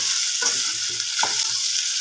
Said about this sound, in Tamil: ஒரு 5 நிமிஷம் கைவிடாமல் கிளறுங்க.